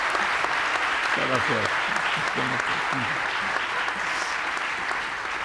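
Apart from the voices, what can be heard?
audience applause for panel speakers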